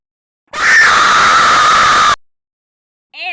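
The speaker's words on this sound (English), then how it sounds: "I bet I can scream louder than you." A single loud, sustained human scream of about a second and a half, close and piercing, breaking off abruptly into silence before a brief second vocal sound begins.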